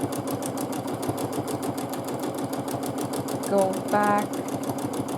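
A sewing machine stitches free motion quilting in small swirls, its steady rapid needle chatter running throughout the whole clip, with a person speaking briefly over it.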